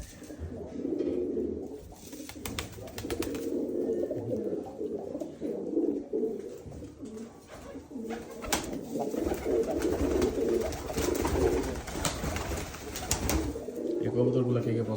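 Flying pigeons kept for racing coo in low, throaty, repeated murmurs throughout, close by, with people talking over them and a few brief clatters.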